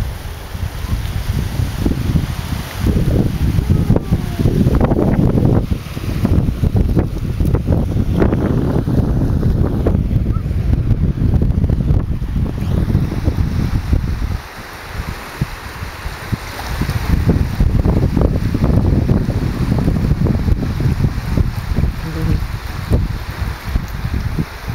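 Strong wind buffets the microphone at the seaside, with rushing waves and surf beneath, continuous and loud throughout with brief lulls.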